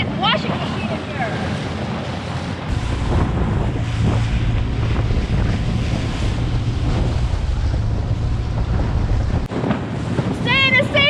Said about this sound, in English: I'm not that comfortable out here with these waves in the dinghy